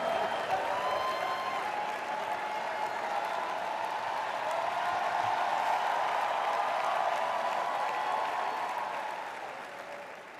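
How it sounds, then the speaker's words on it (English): Audience at a presentation on HI5 Edge and HI5 Boost gives a sustained round of applause, even and moderately distant, fading slightly at the end. "Give him a round of applause."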